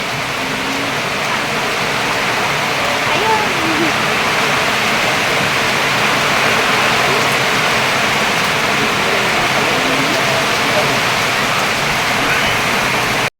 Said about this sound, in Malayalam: ഭയങ്കര കാറ്റ് കാറ്റും മഴയും